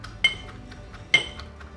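A spoon clinks twice against a pot while stirring snakehead murrel (varaal) curry with coconut oil, two sharp metallic taps over quiet background.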